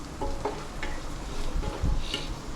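Onions stirred and sautéed in a pan for a home-cooked prawn biryani, a steady close sizzle with soft scraping strokes of the spoon and a brief louder clatter near the end.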